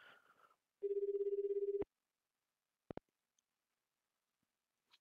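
A phone rings in Persona 2: Innocent Sin, a steady electronic ring tone lasting about a second, then a few sharp clicks in an otherwise quiet scene.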